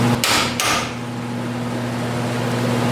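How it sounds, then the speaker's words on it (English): A metal punch is struck with a hammer while prepping a Hasport engine-swap bracket, giving two sharp metallic impacts close together near the start, followed by a steady mechanical hum. "So the first thing we're going to do is we're going to use a punch."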